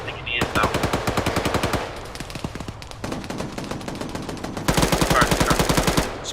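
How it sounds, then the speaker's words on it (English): Rapid automatic gunfire from a firefight in the military shooter ArmA 3, loud, sustained bursts of full-auto shots with a brief lull in the middle before another heavy volley, no talking over it. "That's enemy fire"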